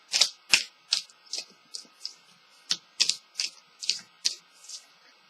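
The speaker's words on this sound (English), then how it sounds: "just shuffle the deck" A deck of tarot cards is shuffled in a string of crisp, quick riffling bursts and taps, about a dozen distinct close snaps in irregular rhythm with short pauses between, clear and alone.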